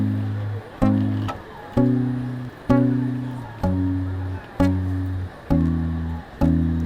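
Guitar dyads from a song, two-note chords struck eight times in an even, measured rhythm. Each chord rings out clearly and decays before the next, close and alone with no talk.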